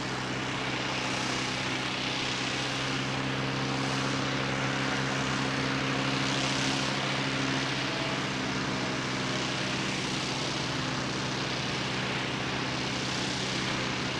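An Airbus A380 lands at Christchurch Airport, a steady, loud, continuous engine roar with a low rumbling hum, alone with no voices.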